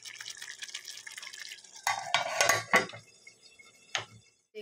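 Hot water poured into a pan of peas and paneer curry, a brief splashing hiss with clattering of a pan and utensil, then a quiet pause and a final clink, close by.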